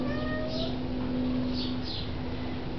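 Several cats on a kitchen counter give a few faint, short meows over a steady background hum.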